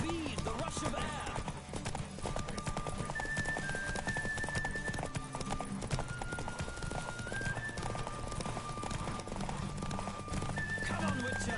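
A horse gallops in a race in The Witcher 3, its hooves beating a rapid, continuous clip-clop with an occasional neigh, mixed with game music tones and a voice talking over the action.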